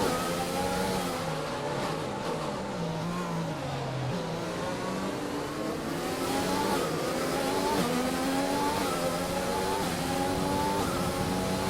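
Simulated F1 car engine from the F1 2020 game at the Singapore circuit, revving hard through rising and falling gear shifts in a continuous loud whine for the whole stretch.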